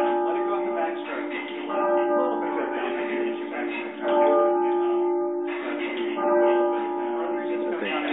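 A 2,400-weight church bell being rung, its strong harmonic tone sustaining and swelling in repeated strokes throughout, loud and continuous with slight dips between strikes.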